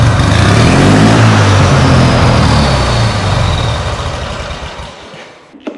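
A turbocharged lawn mower engine with a carburettor running very rich starts and runs as a loud, continuous low rumble, then falters and fades as fuel starvation sets in.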